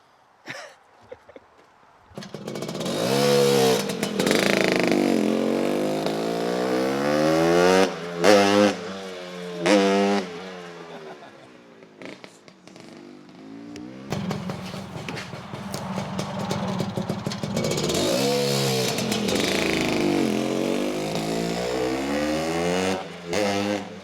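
A custom one-of-one Honda CB450 motorcycle engine running, revving up and down in repeated climbing and falling sweeps with brief drops between. The engine sounds loud and close, with no talking.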